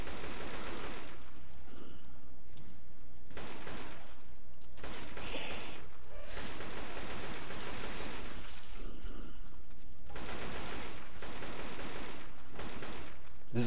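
Gunfire in Left 4 Dead 2, rapid bursts of shots in repeated clusters through an underground level, loud and dense with brief lulls between volleys.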